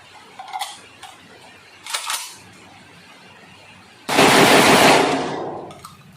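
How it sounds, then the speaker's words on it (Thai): A Derya MK12 shotgun with a 9.5-inch barrel fires test shots, heard as a few sharp metallic cracks followed by a loud, dense burst of rapid reports that trails off, close and without speech. "เดี๋ยวขออนุญาตทดสอบปืนเลยแล้วกันนะครับด้วย อาบิดูนะครับห้านัดนะครับ"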